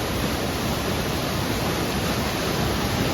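River water rushing hard near Kallarkutty dam in Idukki during the monsoon, a loud, steady broadband roar of fast current with no pauses and no voices.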